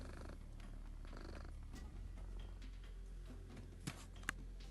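A house cat purrs steadily and close, a low continuous rumble with a couple of faint ticks near the end.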